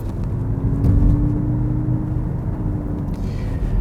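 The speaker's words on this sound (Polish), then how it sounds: "to jest dźwięk silnika, który wydobywa się z głośników" A steady synthetic engine hum with a faint rising whine from the speakers of a Mazda MX-30 electric car, playing continuously and fairly loud, with no talking.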